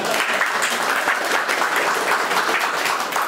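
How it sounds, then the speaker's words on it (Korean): Audience applause at an opening ceremony, dense sustained clapping from a crowd that stays fairly loud and even throughout. "박수."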